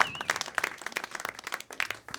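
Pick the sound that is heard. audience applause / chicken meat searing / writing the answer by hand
audience applause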